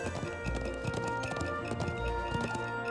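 Horses in the video game Trails of Cold Steel 3 gallop with a rapid, continuous clip-clop of hooves over a backdrop of game music and ambience.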